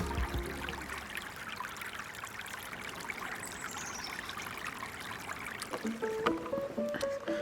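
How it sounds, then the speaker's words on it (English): A river flows below a scenic overlook, a steady broadband rush of moving water running continuously at moderate level, with a few brief tonal chirps near the end. "you got the river down there"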